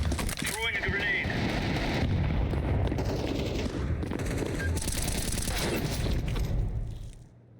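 Grenade explosions and gunfire in Counter-Strike 2 rumble loud and continuous, with dense booms and rapid shots filling the scene before fading out at the end.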